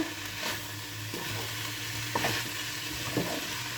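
Chinese-style aloo gobhi with Szechuan chutney is stirred in a frying pan, with scraping, rhythmic spoon strokes over a steady close sizzle.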